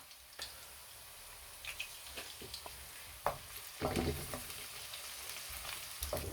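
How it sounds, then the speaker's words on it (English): Garlic frying in a pan with browning onions for an aubergine and potato curry: a steady close sizzle with intermittent scraping stirs and spatters, alone with no talk. "The onions are starting to get brown. So now we're going to add the garlic."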